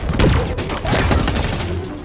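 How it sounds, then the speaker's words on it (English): Rapid gunfire from a weapon in the Halo Infinite online game bursts loudly in a dense volley, continuous and close over about two seconds. "Only I have the intelligence to be able to fire this weapon"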